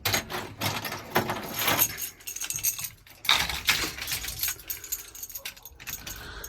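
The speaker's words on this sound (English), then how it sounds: "I put my keys away. Let me grab those out." Keys jangling as they are pulled out during work on a car's steering column; scattered metallic clinks and rattles come in short bursts, fairly close and moderately quiet, with some handling noise between them.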